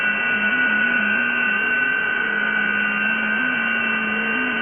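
FT8 digital data signal received over amateur radio, a steady layered set of continuous tones with faint hiss, loud and unbroken throughout.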